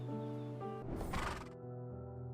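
A horse in a gacha video game lets out a loud, close whinny in a single burst, framed by steady clip-clop hooves and a sustained game tone before and after.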